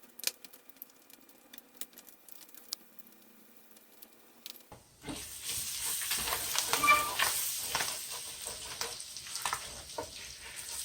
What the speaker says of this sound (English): We're going to cook it for about a minute till the butter gets a little brown.